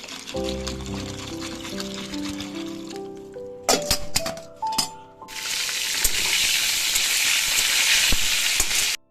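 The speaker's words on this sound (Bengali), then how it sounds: "একদিকে পটলটা ভাজা বসিয়েছি" Pointed gourd (potol) frying in a pan on a home kitchen stove, a steady loud sizzle that takes over the second half after earlier tonal clatter and knocks, running continuously to the end.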